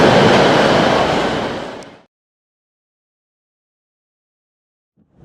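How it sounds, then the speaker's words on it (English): A long train at a South Pennines railway station rumbles past loudly at close range, then fades out over about two seconds into near silence. "Changing platforms, long trains, different trains coming in"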